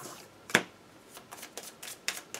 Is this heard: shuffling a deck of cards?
yes